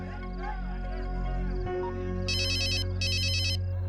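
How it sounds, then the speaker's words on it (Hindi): A mobile phone ringtone chirps in two bursts over a steady low hum, with a few faint sounds before it, heard in a Hindi-dubbed action comedy film. "सुनो, तुम्हारा फोन बज रहा है।"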